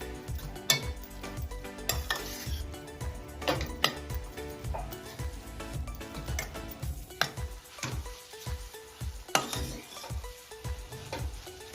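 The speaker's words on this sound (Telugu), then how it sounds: "గాజర్ని కూడా వేసి పచ్చివాసన పోయే వరకు 5 to 10 minutes దీన్ని ఫ్రై చేసుకుందాం" Grated carrots frying in ghee in a pan for gajar ka halwa on a low flame, heard as a soft, faint sizzle with repeated scraping and clinks of a spoon stirring against the pan.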